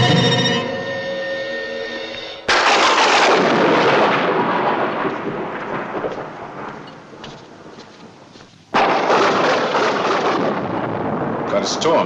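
A thunderstorm rolls overhead: a sharp, loud thunderclap bursts in and rumbles away, then a second crashing peal follows later, each trailing into a long low roll.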